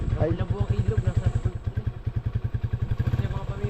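A motorcycle engine putters past nearby beside a river, its steady rapid thumping loud and close, while people talk over it.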